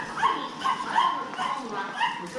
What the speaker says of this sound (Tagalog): Ay yung mga aso dito.